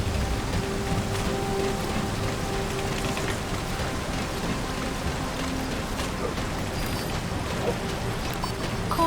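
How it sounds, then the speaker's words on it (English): Rain falls steadily in Metal Gear Solid V: The Phantom Pain as a continuous, dense hiss with fine patter, loud and even throughout, with no voices. "Caution, rain approaching."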